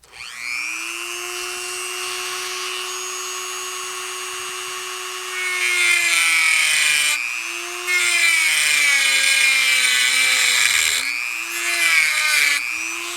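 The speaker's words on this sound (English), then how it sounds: "So I think if I grind it down right there." A power grinder works down a part on a 1982 Honda Urban Express scooter, a loud, close, continuous whine whose pitch dips and swells several times as it bites into the metal.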